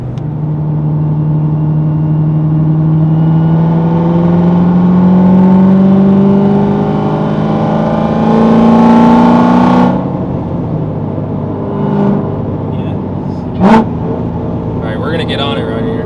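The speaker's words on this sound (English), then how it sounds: "A little third gear pull." An 800-horsepower Corvette pulls hard in third gear, its engine note climbing steadily and loudly for several seconds before easing off, with wind and road noise following.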